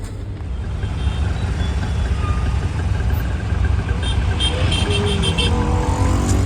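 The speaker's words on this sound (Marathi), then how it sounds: "किती यार ट्रॅफिक लागलं" Busy city road traffic in Pune, with cars and motorcycles idling and moving close by. Engines rumble loudly and steadily, and faint high beeps sound near the end.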